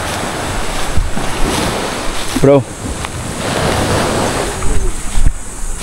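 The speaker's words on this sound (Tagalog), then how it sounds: "Maingay ang alon bro." Loud ocean surf roaring and crashing continuously at the shore near a cemetery, with heavy wind buffeting the microphone; a brief spoken word cuts in midway.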